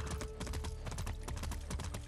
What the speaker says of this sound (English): And drifting my horse out here.